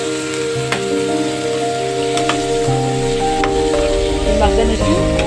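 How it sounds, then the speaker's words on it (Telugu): Tomato pieces sizzle and fry in a pan for paneer masala curry as they are stirred, a loud, close, continuous crackle with occasional scraping taps from the stirring. "టమాటా ముక్కలు వేసుకొని బాగా కలుపుకొని"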